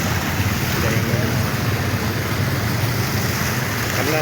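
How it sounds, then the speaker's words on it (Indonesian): Vehicles drive slowly through floodwater on a Tangerang street after heavy rain and strong wind, a steady loud wash of splashing water and rumble with wind noise, continuous throughout with no clear pauses. "karena kalau semakin kencang melintasi banjir ini, cipratan airnya itu cukup tinggi ya"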